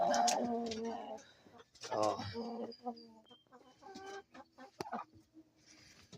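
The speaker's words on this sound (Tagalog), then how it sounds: "Ito yung mga mabalbon na manok." Fluffy-feathered chickens clucking and cooing close by, with short calls and a few sharp squawks, and a person talking now and then.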